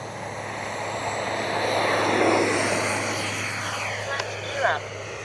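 An Arrows RC F-15 model jet with twin 64mm ducted fans takes off with takeoff flaps set, its high whooshing fan roar building to a peak and easing slightly, moderately loud and steady with no talk.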